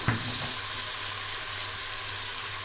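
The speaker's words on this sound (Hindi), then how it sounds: "इन सबको अच्छी तरह भून लेंगे।" Turmeric, dried coriander, garam masala and karela gosht (bitter gourd with meat) fry in a pot with a steady, close sizzle and a brief stir clatter at the start, no voices.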